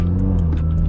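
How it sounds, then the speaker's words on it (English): A steady, deep exhaust drone from a stage 2 tuned BMW B58 engine fitted with a catless downpipe and dual resonator delete, rumbling loudly and close with no talk over it. "dual resonator delete, and that's all I pretty much have for the exhaust, and it sounds super sick."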